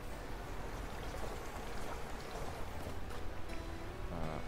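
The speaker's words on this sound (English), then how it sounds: "I'm assuming because it's raining" Rain falls steadily in a farming video game, a dense, even hiss of droplets with a soft pattering texture that holds at a constant moderate level throughout.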